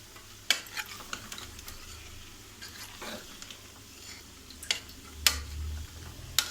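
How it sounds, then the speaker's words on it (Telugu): Beans, carrot, peas and cauliflower are stirred in a pan for vegetable kurma, with scattered scraping clicks from the spoon over a soft, quiet sizzle. "బీన్స్, క్యారెట్, బఠానీ, కాలీఫ్లవర్ అన్నీ వేసాం కదా. ఇప్పుడు మనం ఒకసారి కలిపేసుకుందాము"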